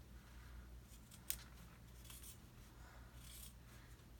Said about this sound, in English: These scissors are okay for this purpose, but not great.